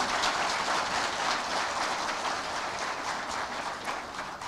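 An audience at a trade fair gives the ambassador a hearty round of applause, a dense, even, rain-like patter of many hands that holds steady alone for several seconds.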